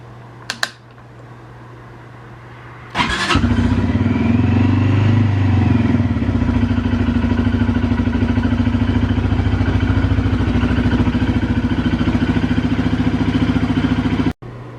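A 2020 Tracker 300 ATV engine idles to warm up. A few clicks come first, then the engine catches and settles into a loud, close, rapidly pulsing idle that runs steadily for over ten seconds.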